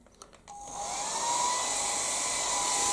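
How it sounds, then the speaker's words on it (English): A Philips Active Cool 1650 HP3462 hair dryer clicks on after a few short taps, then settles into a loud, steady whooshing roar with a faint whine that holds to the end. "that is one very hot hairdryer"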